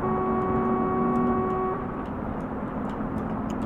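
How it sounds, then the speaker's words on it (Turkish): A truck horn in the mobile game Truckers of Europe 3 blares steadily for nearly two seconds, then cuts off, leaving a continuous engine drone underneath. "Mesela ben kornaya basayım."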